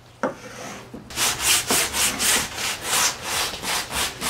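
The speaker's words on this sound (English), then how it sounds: "now he's doing a little hand sanding on the groove" Hand sanding along the groove of a wooden five-leg table, a steady rhythm of close, rasping back-and-forth strokes, about two per second, with no talk.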